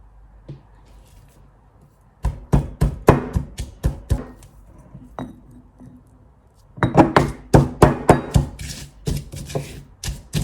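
Ginger and peppers pounded with a pestle in a mortar, two runs of sharp rhythmic thuds, the first a loose set of strikes and the second a denser, faster flurry, close and loud.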